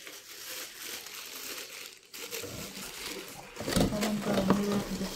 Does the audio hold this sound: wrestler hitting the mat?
no